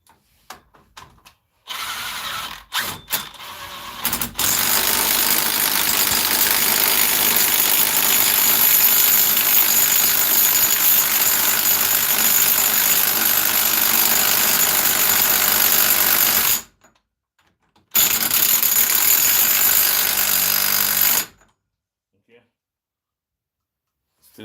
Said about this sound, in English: So now we could tighten our main bolt.